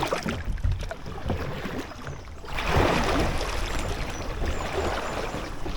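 An inflatable kayak paddled along Selby Canal, with steady water sloshing and paddle splashes that swell into a fuller rush of water partway through, heard up close without talking.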